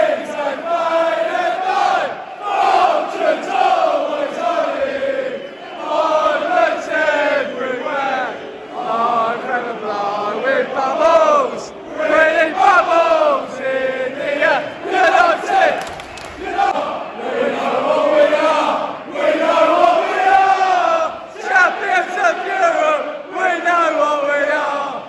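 West Ham away supporters, about 3,500 of them packed into the visiting stand at Bristol City, roar and chant loudly and continuously, their sung chants rising and falling in waves for the whole stretch.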